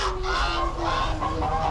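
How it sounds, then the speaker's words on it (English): Roosters and chickens cluck and squawk in a brief burst nearby, with a few overlapping calls from a farmyard flock. "And the roosters and the geese in the back and the chickens."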